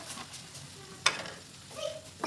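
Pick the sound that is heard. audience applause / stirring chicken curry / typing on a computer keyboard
stirring chicken curry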